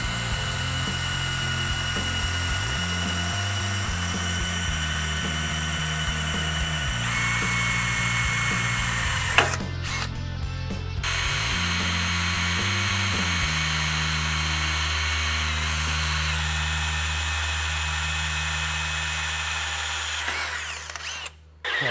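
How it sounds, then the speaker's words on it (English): A power drill boring a small pilot hole, before a 1/2-inch bit, for a 3rd Gen 4Runner back bumper: a close, steady motor whine with pitch shifts as it bites, a brief pause midway, then a lower steady run. "it does help to start with a small drill bit first to start your pilot hole and then move on upward from there"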